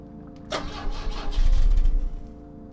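A car engine in the video game The Drifter turns over without catching, a rising burst of cranking and low rumbling surges that swell and fade over a couple of seconds with no clean start.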